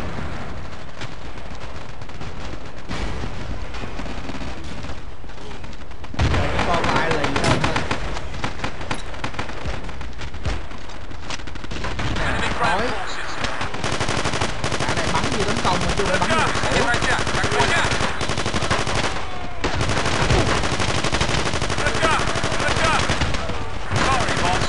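Gunfire in a 20-versus-20 Battlefield 2 match: near-constant automatic bursts and single shots crackle for the whole stretch, loud and dense with overlapping weapons.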